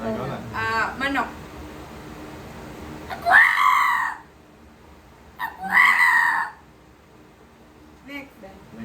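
During a no-laughing challenge game, a person's voice imitates a crowing rooster in two loud, drawn-out crows a couple of seconds apart. Other people talk briefly before and after.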